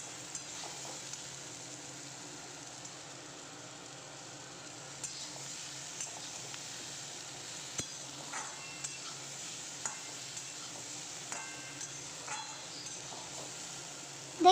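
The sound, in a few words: vegetables frying with ginger-cumin paste being stirred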